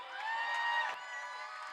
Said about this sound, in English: Let's get a cheer from the crowd.